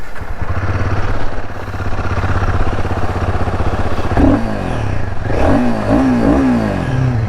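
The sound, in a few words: Royal Enfield Himalayan 450 motorcycle engine starting and revving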